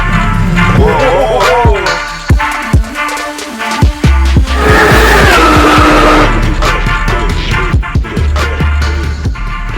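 A car at a drift event in India roars with engine revs while its tires skid and squeal loudly and repeatedly, with clatter and crowd noise mixed in.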